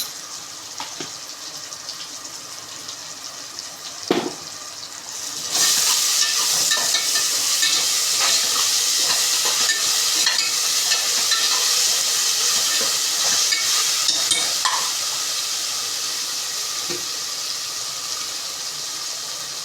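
Ginger garlic paste for mutton biryani hits a hot pan and fries with a sudden loud, steady sizzle and hiss, after a brief stir and clatter, continuing close and unbroken without talk.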